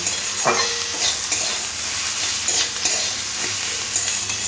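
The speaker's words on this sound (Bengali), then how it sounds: "দিয়ে ভালো করে সবজির সাথে মশলাগুলো কষে নিতে হবে" Vegetables sautéing in a pan with chilli powder and turmeric powder, a loud close sizzle broken by repeated scraping stirs of a spatula, with no talk.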